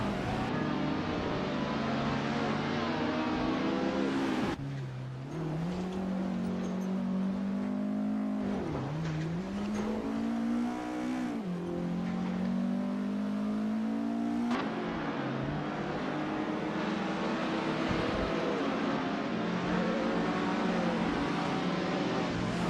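A 1961 Alfa Romeo Giulietta Sprint and other race cars run on a track, with a loud, continuous engine drone that rises and falls in pitch as the cars rev, shift and accelerate, and no voices.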